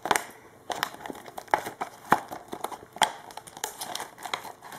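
Plastic wrapping crinkles and tears as a package of sparkly artificial flowers is opened, with close, sharp crackles and rustles in an irregular rhythm throughout.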